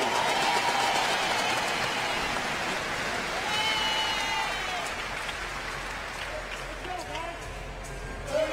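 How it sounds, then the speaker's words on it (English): A CrossFit Invitational arena crowd applauds and cheers after an event finishes, a steady wash of clapping and voices that slowly tapers, with scattered shouts rising over it. "The crowd appreciating that effort."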